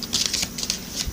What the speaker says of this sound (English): let me shuffle the Sacred Rebels Oracle deck for my Scorpio viewers and friends.